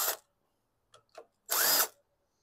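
Short bursts from a power driver, with brief clicks between them, remove two 10 millimeter nuts from the carburetor of a 2018 Yard Machines PowerMore walk-behind lawn mower.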